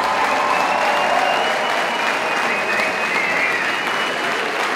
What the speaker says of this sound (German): Riesengroßen Applaus dafür!